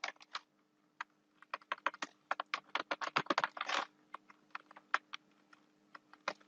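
Keys clack on a computer keyboard as HTML code is typed, in irregular bursts of close, crisp taps with a quick flurry in the middle, without any voices.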